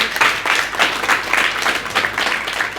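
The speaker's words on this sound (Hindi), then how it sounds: "तालियां" A small group at a coaching class claps for their teacher, a brief burst of rhythmic, fairly loud applause pulsing in quick uneven waves.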